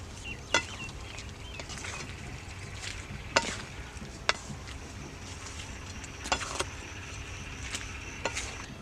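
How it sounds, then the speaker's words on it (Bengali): Ground salt, turmeric and chili powder stirred into chalta (elephant apple) pickle in a bowl, soft scraping and mixing with a few sharp spoon clicks scattered through the quiet. "সবগুলো মশলা দিয়ে একটু ভালো করে মিক্সড করে নিতে হবে"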